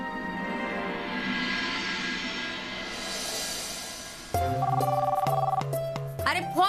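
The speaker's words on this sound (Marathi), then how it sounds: "अरे फोन उचला कोणीतरी." An office desk telephone rings in a Marathi TV drama scene, a loud repeating electronic ring that cuts in abruptly after a stretch of background music and continues in short bursts.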